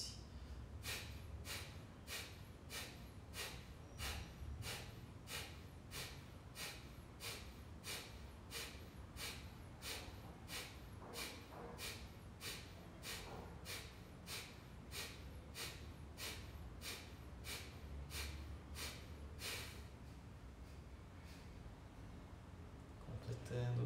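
Rhythmic forceful breathing during a yoga exercise, about thirty quick sharp exhalations through the nose in a steady even pulse, close and clear, with a calmer breath at the end.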